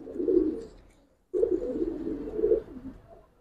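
Giribaz pigeons coo in a low, continuous burbling murmur, nearby and moderately loud, broken by one brief pause before it resumes.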